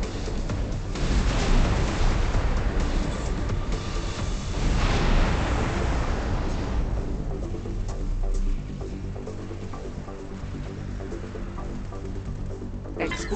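Deep rumbling blast with a sustained boom and roar from the X4 Foundations space game, loud and dense at first, then settling into a lower throbbing rumble that carries on to the end.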